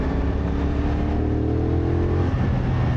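A CFMOTO SR450 motorcycle engine revs close by, its rising drone loud and continuous as it climbs, then settles lower.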